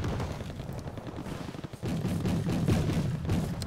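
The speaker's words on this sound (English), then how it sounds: "here come my mortars," 107mm mortars firing in a military strategy video game, a run of dull thumping reports and rumbling impacts at moderate distance, steady through the stretch and growing heavier toward the end.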